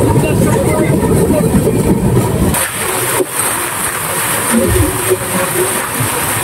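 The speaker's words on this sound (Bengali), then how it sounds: "তমলুক থেকে ছেড়েই মারাত্মক গতি করেছে ট্রেন, কাঁথির দিকে এগিয়ে চলেছে" Tamralipta Express train running at high speed out of Tamluk toward Kanthi on the Howrah–Digha route, a loud steady rumble and roar with a sharp change partway through, continuous throughout.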